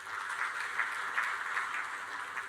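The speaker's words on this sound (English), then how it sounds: "A big round of applause to them." A conference audience claps through an inauguration session of the Indian Association of Pathologists and Microbiologists, a steady, even patter of many hands at moderate distance with no voices over it.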